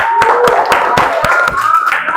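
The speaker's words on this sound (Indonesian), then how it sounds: "kita beri tepuk tangan dulu." Classroom students clap together in a short, fairly close burst of distinct sharp claps at an uneven rhythm, with a faint murmur of voices in the room behind.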